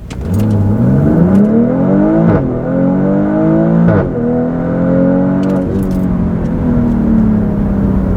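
2022 BMW X3 M40i with a CSZ exhaust pulls away from a stop, engine note climbing loud and close with rising harmonics, then breaking briefly at each upshift as it keeps accelerating.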